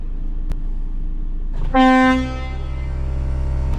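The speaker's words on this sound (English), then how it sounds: "Shall we see if the old air horns will scare him again?" A single loud, sustained blast of a Scania truck's air horn rings out, held for about half a second, then fades into a low idling engine rumble.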